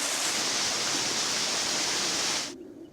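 Loud, steady rushing roar of a waterfall tumbling down a hillside in Calderdale at dusk, broad and continuous, cutting off abruptly near the end and leaving a faint background hiss.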